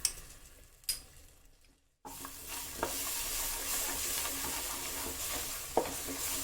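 Grated ginger goes into gram flour roasting in a pan for Sindhi kadhi and is stirred, a soft sizzle with occasional utensil knocks, quieter at first then a steadier frying hiss after a brief silence; no talking.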